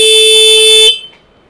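A single short, thin-toned horn beep from a Suzuki V-Strom SX 250 motorcycle, loud and close, lasting under a second before cutting off.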